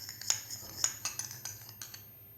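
A spoon clinks against a bowl while milk is stirred into aloe vera gel to make a paste, giving a run of light, irregular taps and scrapes, close and fairly quiet.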